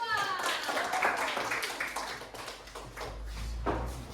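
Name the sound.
clapping for group 2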